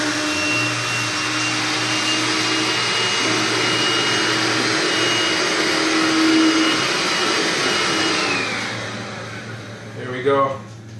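A Makita 18V cordless stick vacuum, model XLC02 DCL182, runs with a loud steady high whine and airflow rush, changing pitch briefly as it picks up debris, then winding down at the end.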